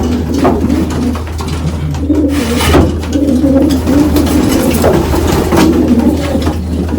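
Male racing pigeons coo repeatedly close by, low throaty rolling calls over a steady background hum, with no talking.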